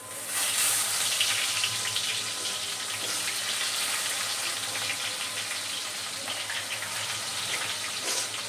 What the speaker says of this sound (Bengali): এবার দেবো পেঁয়াজ।